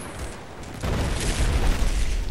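A Battlefield 4 explosion in the video game erupts as a deep, heavy rumbling boom that starts abruptly and keeps roaring loudly, with no talk over it.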